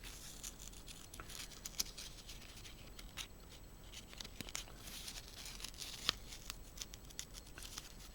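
Scissors cutting fabric for machine appliqué, quiet close snips and soft rustling crinkles spread unevenly over several seconds with no talking.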